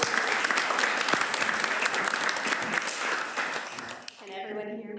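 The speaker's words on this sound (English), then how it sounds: "Can I get a round of applause for Sawa?" A workshop audience applauds a speaker steadily and closely for about four seconds, then the clapping drops away as a voice begins talking over the fading room.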